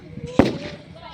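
Firecracker bursting at a wedding, a single sharp nearby bang lasting a moment, with voices around it.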